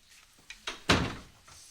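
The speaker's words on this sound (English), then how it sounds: "Come in, close the door." An indoor door closes with a couple of light knocks and then one solid thud, close by, and the sound rings out briefly afterward.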